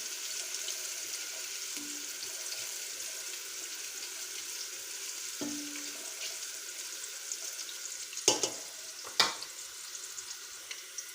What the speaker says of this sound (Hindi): प्याज और मसाले हमारे अच्छी तरह फ्राई हो गए हैं।